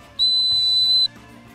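A single dog-training whistle gives one steady, piercing high blast lasting about a second, cueing a retriever to sit during on-lead obedience warm-up outdoors, with no talking.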